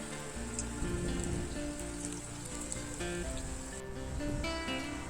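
Steady rain falls outside a home kitchen in Bengal. It makes a soft, even, continuous hiss at low volume, with no voices.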